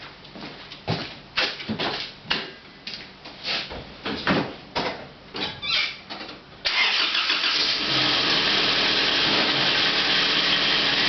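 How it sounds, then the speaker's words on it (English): A 1995 Isuzu pickup with a 2.6 engine cranks in a rapid pulsing rhythm for several seconds, then catches and settles into a loud, steady close-up idle. "start her up, take it for a drive."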